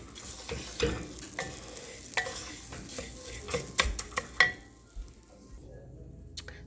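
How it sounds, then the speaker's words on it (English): Rice toasting in butter in a pan, sizzling softly while being stirred, with scattered scrapes and clinks of a utensil against the pot. "There, you can hear the sizzle a little bit."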